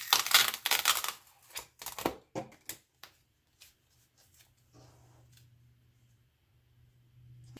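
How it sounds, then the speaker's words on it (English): A ruler is peeled off duct tape on a paper pad in a craft room, giving a cluster of sharp crackling rips in the first few seconds, then a few isolated ticks before near silence. "the next step you need to do is to take this and you're going to just peel the ruler off"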